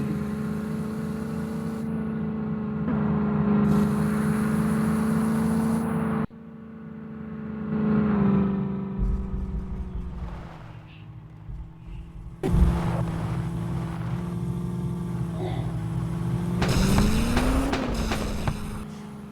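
A car engine revs in an off-road driving video game as a loud, droning tone that rises and falls with boosts, broken by abrupt cuts between segments, with no one talking.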